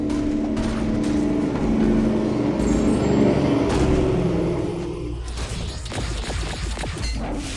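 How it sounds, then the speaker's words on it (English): A loud truck rumbles past nearby, a heavy low engine roar swelling and then fading over several seconds, with a brief clatter midway and no talking. "The loud ass truck that just went by."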